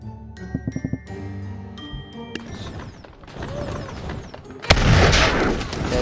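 Musket volleys and cannon fire in the battle game Totally Accurate Battle Simulator: scattered sharp shots early on, then a loud sustained burst of blasts with booming low end toward the end, and no voices.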